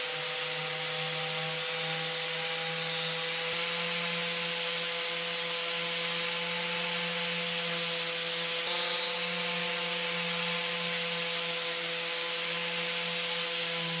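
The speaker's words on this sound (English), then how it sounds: "using a 120 grit sandpaper, I started smoothing out all this filler" Steady, continuous rasping of 120-grit sandpaper rubbed over hardened body filler, with a constant mechanical hum underneath throughout.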